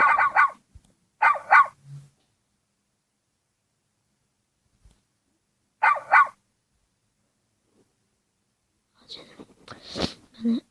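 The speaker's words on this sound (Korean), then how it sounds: "강아지도 이렇게 사랑스러운 진짜 강아지가 있으니까요" A dog barks in short, sharp bursts separated by long silences, a few close single barks followed by a rougher, noisier outburst near the end.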